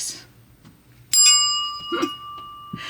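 A small bell on a repaired thrift store item rings with a single bright ding that sustains and slowly fades, close and clear, followed by a couple of soft handling taps.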